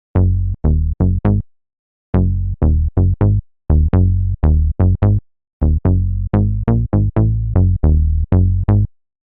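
Warm, fat analog-style synth bass line from the Bass Perfection preset in a house music context, loud and close, playing short punchy plucked notes in tight rhythmic phrases separated by brief gaps, with no voices.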